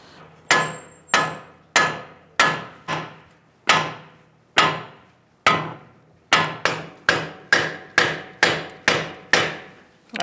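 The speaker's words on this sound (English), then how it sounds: "Use my sledgehammer." Sledgehammer blows ring out against the steering knuckle on a Ford Taurus front strut, about fifteen sharp metallic strikes, spaced unevenly at first and then coming quicker, close and loud with no voices.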